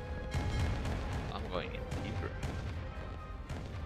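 Artillery fire in the Roblox game Rise of Nations: repeated low booms and sharp blasts in an irregular volley, with a voice talking over the barrage.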